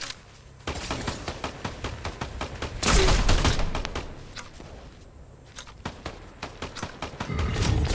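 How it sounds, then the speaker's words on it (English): Dense video-game gunfire in a multiplayer shooter: rapid, loud bursts of shots and overlapping volleys with thuds, nearly continuous, swelling and fading, with almost no talk. "Who are they shooting at?"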